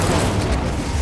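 An Incendio fire spell cast in Hogwarts Legacy, a dense roaring whoosh of flame that fills the whole second at a steady, loud level with a low rumbling body.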